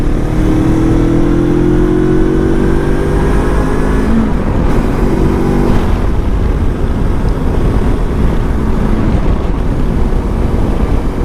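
A Lifan KPT 400 motorcycle fitted with a 43-tooth rear sprocket is ridden through fourth and fifth gear, its engine droning loud and close with rising pitch, a gear change, then steady wind-blasted cruising.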